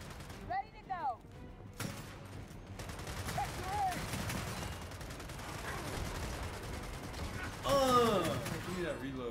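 Rifle fire in the Gears of War 4 video game, bursts of rapid gunshots under continuous noisy combat, with a player's voice over parts of it, plus sweeping whines at the start and end.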